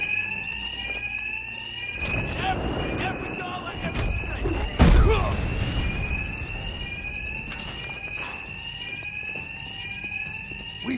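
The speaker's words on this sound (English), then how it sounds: "these thugs can't hear a thing over the alarms" Alarms blare continuously in Batman Arkham Knight, a high repeating electronic tone running throughout, broken by a heavy thud midway, with a voice speaking underneath.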